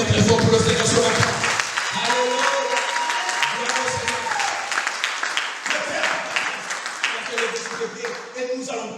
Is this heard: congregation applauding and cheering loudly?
yes